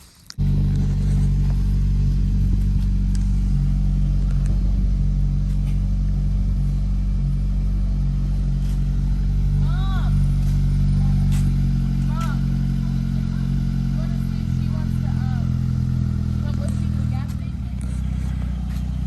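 A 2012 Hyundai Veloster engine idles with a deep, steady rumble, loud and close, while a person talks faintly over it.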